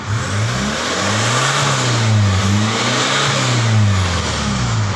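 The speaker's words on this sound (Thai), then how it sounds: "นี่เร่งเต็มที่ เสียงไม่ดังครับ เสียงเงียบ" A Hyundai H1 Elite van with a modified exhaust muffler revs at full throttle, its engine note rising and falling in repeated sweeps, close and loud, steady throughout with no talk.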